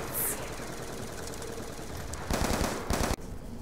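Gunfire in Black Ops 2 Zombies on the Town map: a steady low bed of game noise, then two short loud bursts of automatic fire close together near the end.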